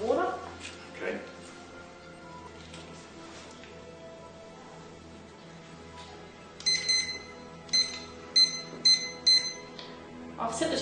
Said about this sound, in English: I've set the timer for 3 minutes.